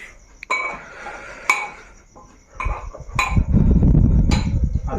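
A spoon presses sweet khoa filling into a sandwich maker for bread sandwiches, giving several sharp metallic clinks and taps at irregular intervals followed by a rougher rubbing scrape, close by.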